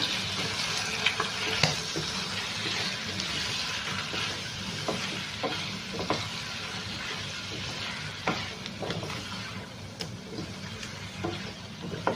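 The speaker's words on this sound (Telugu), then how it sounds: "ఇప్పుడు మనం ఒక రెండు స్పూన్లు పెరుగు వేసుకుందాం మిక్స్ చేసుకుందాము" Curd is stirred into chicken pulao frying in a pan, giving a steady close sizzle with repeated scraping and stirring clicks throughout, no voices.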